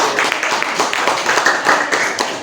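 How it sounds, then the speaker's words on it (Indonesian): A classroom of students gives a short round of applause, a dense patter of hand claps at moderate volume that holds steady for a couple of seconds. "Oke, kalau gitu kasih tepuk tangan dulu"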